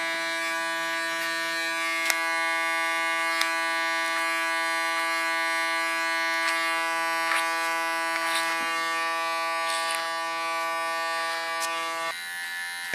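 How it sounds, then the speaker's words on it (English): A small electric hair clipper buzzes steadily as it trims a woman's short neckline contour, its hum holding constant with faint clicks before stopping near the end. "Again with my small clipper I clean the contour line"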